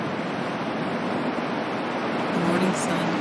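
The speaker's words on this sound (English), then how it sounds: "The rhythmic sound of the surf is a soothing backdrop to your thoughts" Steady ocean surf washing onto a sandy shore, a continuous broadband roar with little rise and fall, heard alone at a moderate, even level.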